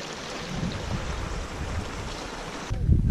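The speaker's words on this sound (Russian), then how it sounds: "На 4600 такая вот речка." A small mountain river at 4,600 m on Kilimanjaro flows in a steady, close rushing wash, with wind buffeting the microphone at the end.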